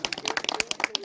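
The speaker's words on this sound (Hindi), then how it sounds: "तालियां।" Hands clapping in quick, uneven bursts at a small village party, a close cluster of claps spread across the whole moment with little else beneath.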